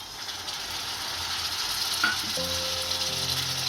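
Chopped tomatoes hitting hot oil in a pan of frying soya vadi curry, a steady bright sizzle with a sudden crackle as they land, followed by faint stirring scrapes.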